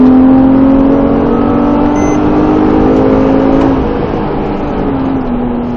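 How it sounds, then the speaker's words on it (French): A 320 hp Porsche accelerates at full throttle on a race track, its loud, close engine note climbing steadily before a brief drop as it shifts, then pulling on again. "Marche bien cette petite Porsche."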